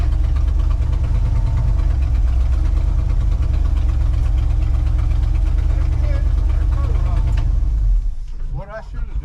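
A 1968 Ford F250 engine runs loud and close with a steady, rumbling idle and a knocking pulse. Near the end it fades abruptly, leaving quieter rustling noise.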